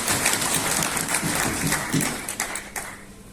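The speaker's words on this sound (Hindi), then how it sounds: "तो आदरणीय अश्विनी जी हमारे बीच एक बार उनके लिए जोरदार तालियां बजाइए" Crowd applause at a political gathering honouring 1975 Emergency veterans, a loud burst of clapping that tapers off toward the end, with a little talk mixed in.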